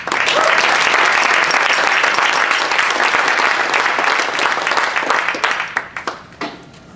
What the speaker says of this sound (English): let's give a big, huge round of applause for John from AOL